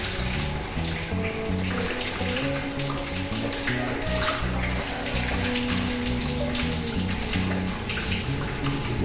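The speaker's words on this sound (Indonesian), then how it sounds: "Sekarang kita lakukan uji coba dengan cara saya nyalakan pompa airnya" Water gushing steadily from the outlet of a serviced water pump, a continuous broadband splashing and rushing flow with a constant low mechanical hum beneath it, loud and close throughout.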